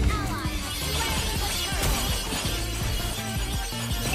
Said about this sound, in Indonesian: blok pasifnya Nana lo pecah